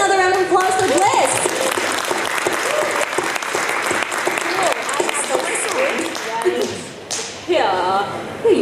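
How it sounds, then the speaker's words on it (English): Audience at a pony-fandom convention panel at AliCon 2019 bursts into loud, sustained applause with whoops and cheers, while voices talk and call out over the clapping throughout. "Can we give another round of applause for Bliss?"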